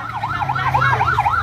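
A police car siren wails loudly and close by, sweeping up and down in a steady, rapid rise-and-fall pattern at a house fire in Purok Magsaysay, Pinagpanaan, Nueva Ecija, over a low engine rumble, with no talking.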